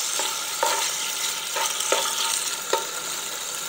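Chicken pieces for egg rolls fry in a pan, a steady close sizzle with a few sharp stirring scrapes at intervals and no voices.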